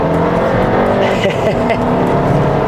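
A tuned VW Alltrack with a TSI engine, now over 200 horsepower at the wheels, pulls hard under acceleration with a loud, steady engine drone close to the microphone.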